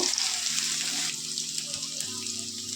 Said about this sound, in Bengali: পেঁয়াজ কুচিটাকেও একটু এর সাথে ভেজে নেব।